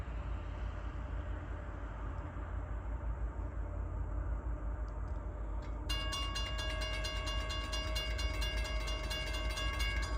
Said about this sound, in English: The coal train will be coming here shortly.